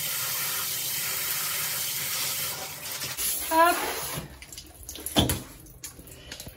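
Tap water running steadily while houseplants hit by thrips are rinsed, a continuous close gush that is cut off partway, followed by splashes, dripping and a voice speaking.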